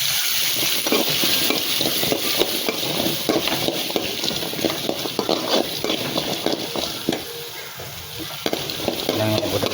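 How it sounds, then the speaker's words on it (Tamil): Small shallots and garlic sauté in a little oil in a pan for cauliflower gravy, with a continuous sizzle broken by repeated scraping and clinking stirs close by. "வெங்காயம் போட்டு நல்லா வதங்கட்டும். தேவையான அளவு பூண்டு போட்டுக்கோங்க."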